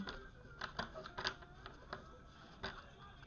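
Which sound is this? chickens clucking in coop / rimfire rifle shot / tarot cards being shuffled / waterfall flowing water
tarot cards being shuffled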